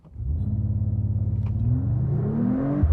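A Mercedes-AMG CLE 53 in sport plus mode makes a launch start: the engine fires into a loud, pulsing rev, then its pitch climbs steadily as the car accelerates hard, heard close from inside.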